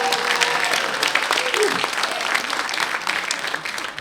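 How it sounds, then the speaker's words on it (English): Audience clapping steadily at a stand-up comedy show, a dense continuous round of applause from a live crowd that holds at a steady, fairly loud level throughout. "Come on, guys, let's be generous with the clapping"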